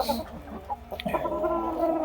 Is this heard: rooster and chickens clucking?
yes